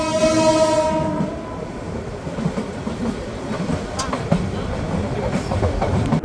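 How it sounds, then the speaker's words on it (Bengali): Sagarika commuter train running on the Chandpur–Chattogram line, heard from on board: a horn sounds for about a second at the start, then a steady rumble of the moving carriages continues with faint wheel clatter, loud and continuous. "এই ট্রেনটি এই একশো বিরাশি কিলোমিটার পথ পাড়ি দিতে সময় নেয় প্রায় পাঁচ ঘন্টা"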